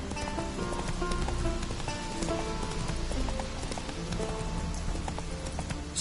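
Hooves clip-clop at a steady gallop from a horse in The Witcher 3 in Skellige, loud and close over a constant wash of ambient game sound, with no voices.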